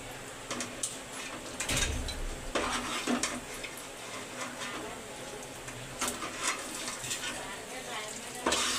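Chicken fried rice sizzles in a hot pan while it is stirred, with repeated metallic scrapes and clanks of a utensil against the pan over a steady frying hiss, up close, with occasional speech.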